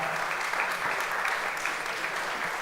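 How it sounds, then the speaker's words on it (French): Steady applause from an award-ceremony audience as a trophy is handed out, a dense, even wash of clapping that holds throughout with a faint voice underneath. "on va vous applaudir"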